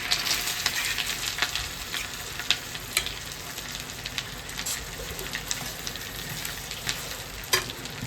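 Pulao ingredients with green chilli, pistachios, cashews and grated ginger frying in a pan, a crackling sizzle punctuated by sharp spatula scrapes and taps as they are stirred.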